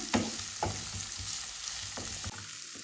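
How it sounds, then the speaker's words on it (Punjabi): Chopped onions frying in a pan for a potato and moongre sabzi, a steady close sizzle broken by a few sharp stirring scrapes, with no voices. "ਪਿਆਜ਼ ਨੂੰ ਚੰਗੀ ਤਰ੍ਹਾਂ ਮਿਕਸ ਕਰਕੇ ਆਪਾਂ 2 ਮਿੰਟ ਲਈ ਭੁੰਨ ਲੈਣਾ"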